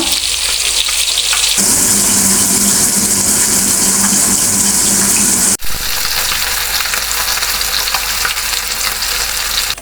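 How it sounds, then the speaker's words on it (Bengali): Fish frying in a pan makes a loud, continuous sizzle that grows noticeably fiercer after the first second and carries on strongly, with one momentary break midway. "আরেক পাশে বসিয়ে দিয়েছি মাছ ভাজা"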